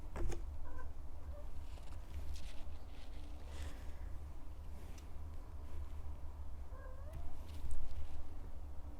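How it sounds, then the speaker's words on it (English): A pet cat meows a few times at moderate distance over a steady low indoor hum, the short cries scattered through the quiet room. "My cat just came in."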